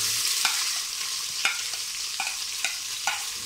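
Sliced onion frying in oil in a pot for chana dal, a continuous close sizzle punctuated by regular spoon clinks and scrapes as it is stirred, with no voices.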